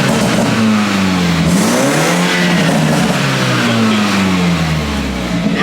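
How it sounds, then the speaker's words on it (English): A BMW F30 with a newly installed downpipe revs hard up and down nearby, its loud engine note rising and falling with burbling exhaust crackles. "Oh, you got some little burbles back there."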